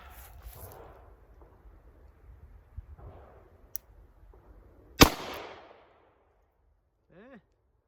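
A Charter Arms Bulldog .44 Special revolver fires one loud, sharp shot of defensive ammo with a short ringing decay, preceded by quiet handling clicks and low indistinct speech, followed by a brief faint voice.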